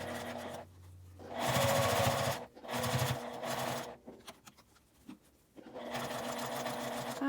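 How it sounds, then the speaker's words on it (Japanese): Sewing machine stitching the seam of a quilted zipper pouch, whirring in close bursts of a second or two, with short pauses and handling sounds between runs. "このように留めてさっき縫った縫い目の内側を縫っていきます。"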